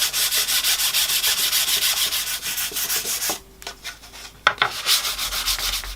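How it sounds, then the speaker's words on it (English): Sandpaper rubs over a 3D-printed plastic bonsai pot in rapid rhythmic back-and-forth strokes, close and loud, pausing briefly midway before resuming. "Next I'll go back with the sandpaper and finish all the surfaces that show on the pot."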